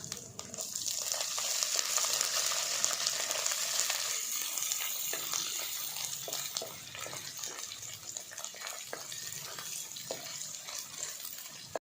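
Ginger garlic paste frying in a pan over a traditional wood stove, a loud, steady sizzle that swells early and settles into continuous crackling, with occasional scraping stirs.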